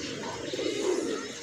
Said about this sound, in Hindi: सारे कबूतर भी सब उड़ रहे हैं अभी